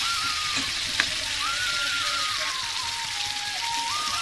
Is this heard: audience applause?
no